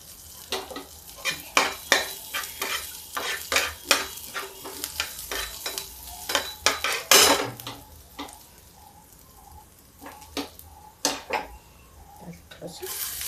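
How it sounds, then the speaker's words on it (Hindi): Cumin, garlic and green chili frying in a pan over a high gas flame, with quiet sizzling under repeated clinks and scrapes of a spoon stirring against the pan, close by, and someone speaking over it. "तो जीरा डाल दीजिए, मैंने भी जीरा डाला है। गैस को तेज कर दिया है। अब डालेंगे इसमें थोड़ा सा लहसुन और थोड़ा हरा मिर्च।"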